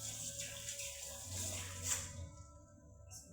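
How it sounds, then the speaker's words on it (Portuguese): Water running from a tap that does not shut off properly, a faint steady flow with some splashing and a short clatter near the end, heard alone. "essa torneira aqui, ela não tá parando muito bem"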